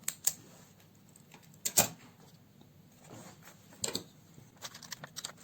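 Quiet, close snips of scissors cutting around the outside of a homemade paper sticker, irregular clicks spread over a few seconds in an otherwise still room.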